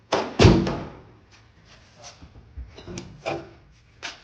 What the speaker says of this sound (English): The door opens and shuts good-ish.